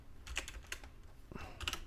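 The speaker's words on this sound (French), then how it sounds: "J'arrive même plus à écrire sur mon clavier." Keys tapped on a computer keyboard in short irregular bursts of clicks, moderately close, with no talking.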